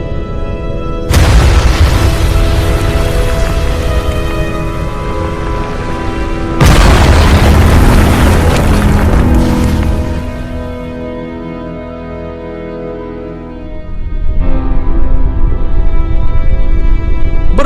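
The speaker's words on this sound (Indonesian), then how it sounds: "Terjadilah sebuah peristiwa dentuman besar atau Big Bang yang sangat-sangat luar" Deep, roaring explosion booms depict the Big Bang, with three massive blasts hitting in sequence, each rumbling on loudly with a dense, thunderous tail and no talking over them.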